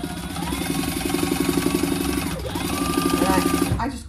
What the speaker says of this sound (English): So I'm just gonna baste that in place.